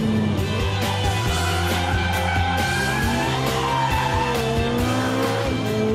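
A Ferrari 430 with a new E-differential slides in race mode, its tyres squealing in long wavering tones over a loud, steady engine roar, continuous for several seconds.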